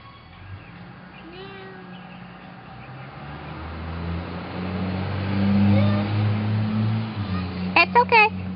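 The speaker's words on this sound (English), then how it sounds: "That's just a truck." A truck drives past outside, its engine rumble swelling and then easing off, with speech and high squeaky voices heard over it.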